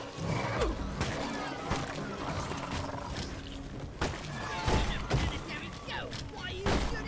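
Rapid bursts of gunfire in the video game Deep Rock Galactic, loud and near, with thuds and growling creature noises mixed through a dense, busy battle.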